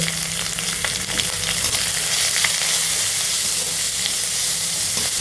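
Chopped onion, garlic, green chili and crushed ginger fry in hot oil in a pan for a potato dish, giving a steady loud sizzle with occasional stirring scrapes and no talk.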